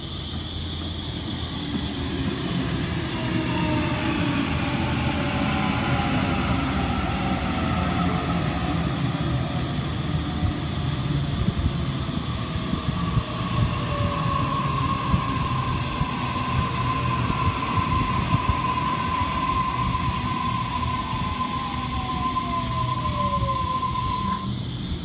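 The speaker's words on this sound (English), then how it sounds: "And there's a Waratah about to arrive on platform number 1." A Sydney Waratah train, set A17, pulls into platform 1 at Rhodes station with a long, loud rumble and high, drawn-out wheel squeals that glide and fade as it slows.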